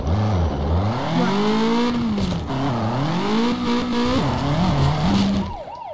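Engine of a Mad Max style car in the Turbo Dismount game, loud and continuous, its pitch swooping up and down as it revs and shifts, with tire squeal and skidding along the way before it cuts off near the end.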